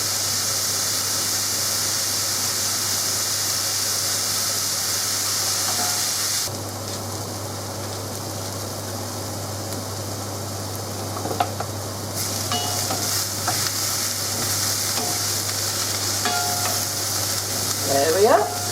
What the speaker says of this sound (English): they just need to be cooked until the onion starts to brown